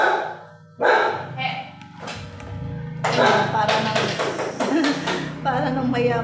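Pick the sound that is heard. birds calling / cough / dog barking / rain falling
dog barking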